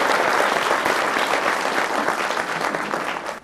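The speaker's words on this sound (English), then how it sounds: "ladies and gentlemen, please give yourselves a round of applause for creating time to be here" A leadership forum audience applauds itself with loud, dense clapping that holds steady and then tapers slightly near the end, with no talking over it.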